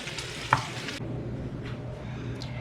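Shrimp frying in a pan, giving a soft steady sizzle with a brief stir or clink near the start before the sizzle quiets.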